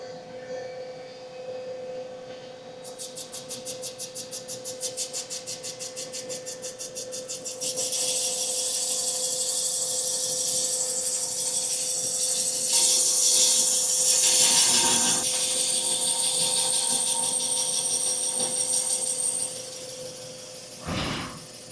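Machine cutting a counterbore in a Cummins engine block, a steady grinding whine that rises in intensity midway and holds as a loud, close, continuous metallic cutting sound before easing off near the end, with no talking.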